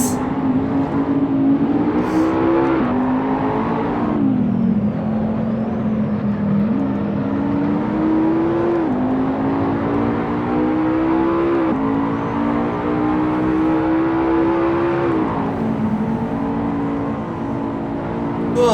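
McLaren race car engines in the Assetto Corsa racing game drone loudly and continuously, pitch sliding up and down with gear shifts and throttle lifts as cars run nose to tail.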